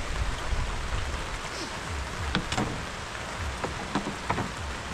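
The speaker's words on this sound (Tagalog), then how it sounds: "umuulan" Steady rain pours down outdoors over a bamboo hut being repaired, a dense continuous hiss with scattered nearby drips and patters, no voices standing out.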